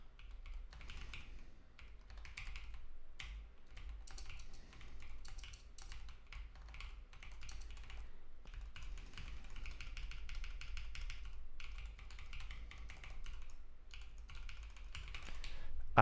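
Fast, steady typing on a computer keyboard while coding Rust in Vim, a dense run of close, crisp key clicks across the whole stretch with no talking.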